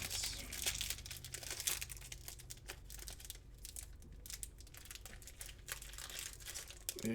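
Plastic packet of game cards being opened and handled, with close, quiet crinkling and rustling punctuated by sharp little crackles and taps throughout.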